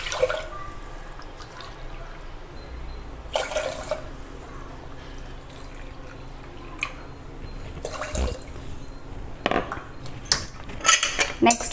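Water is poured by the cupful into a pressure cooker holding moong dal and rice, a faint splashing and trickling repeated several times over a low room hum, with light clinks of metal.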